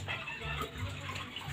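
Warm water poured over puppies during their first bath, a short continuous splashing trickle at close range against a steady background.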